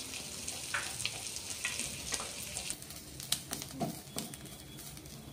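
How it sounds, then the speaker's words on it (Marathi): Chopped onion fries in a spoonful of oil in a pan for a spicy modak amti, with a steady sizzle broken by scattered crackles and scraping stirs. "आपल्याला कांदा हा लालसर होईपर्यंत भाजायचा आहे."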